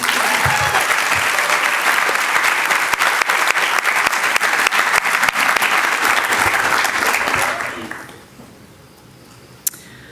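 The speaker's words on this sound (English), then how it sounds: "Now you may clap." Ceremony audience applauding at a Springfield College Physician Assistant certificate ceremony, a dense, loud burst of many hands clapping that holds steady for about eight seconds before fading out quickly into near quiet.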